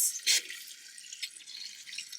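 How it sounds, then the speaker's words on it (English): Water pushed by a pump through a Transit van's newly installed plumbing, splashing and dripping from a tap in brief spurts, fairly close, with no talk. "I hear the pump. I see water coming round."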